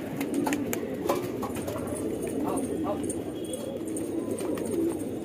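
Rekhta pigeons coo softly and repeatedly amid a busy background of other birds, with someone talking over the cooing throughout.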